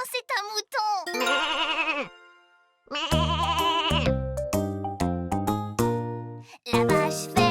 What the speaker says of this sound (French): c'est un mouton